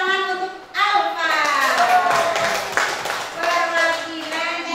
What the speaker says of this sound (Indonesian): Tepuk tangan untuk Alfa